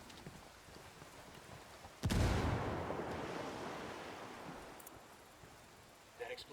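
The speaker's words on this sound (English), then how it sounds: "That explosion got their attention." A single explosion from a thrown frag grenade in Ghost Recon Wildlands bursts suddenly and then rolls away in a long, fading rumble over faint background ambience.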